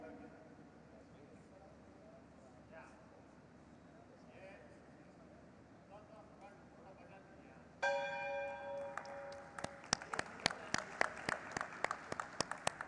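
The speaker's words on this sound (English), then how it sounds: "let's keep the claps on" At a stock exchange listing ceremony, a crowd applauds in a sustained round of clapping. Bell strikes ring out over it in a sharp, repeated series partway through, after a quiet stretch with faint voices.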